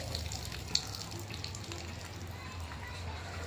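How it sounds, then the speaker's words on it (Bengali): Cut fish is rinsed under running water, a steady close splashing flow lasting a few seconds. "এখন ধুইব, মাছটাকে ধোবো।"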